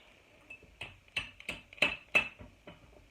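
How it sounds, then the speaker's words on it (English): Hammer blows driving a part into a Hi-lift jack for a Jeep Wrangler JK, about eight sharp metallic taps in an uneven rhythm, close and fairly quiet, with no talking between them. "and hammer it down in there."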